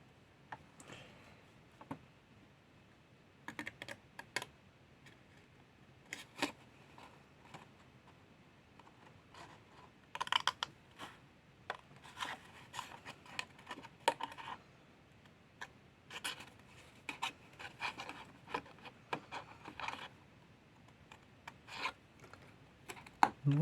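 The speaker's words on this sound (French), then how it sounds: "Donc on prend la petite paire de ciseaux." Small scissors snip through paper while a mini album box is being made, giving scattered short crisp cuts and rasps in irregular bursts, quiet and close, with no talking.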